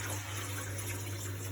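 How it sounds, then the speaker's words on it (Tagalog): Water pours steadily into a cooking pot of marinated ribs with onion, ginger and garlic, a continuous close splashing stream under a low steady hum, with no voices. "Lagyan na natin ng tubig,"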